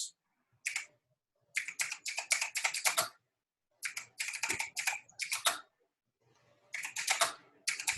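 Typing on a computer keyboard whose E key is faulty: quick bursts of clicking keystrokes, close and fairly quiet, broken by short silent pauses.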